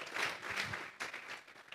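A church congregation breaks into applause, a burst of clapping from many hands that swells, dips and rises again over a couple of seconds, moderately close and without speech.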